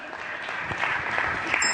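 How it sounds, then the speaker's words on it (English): Audience applause fills a short stretch, a dense, steady wash of many hands clapping close by at a fairly loud level, with no pause. "give him a round of applause there, right?"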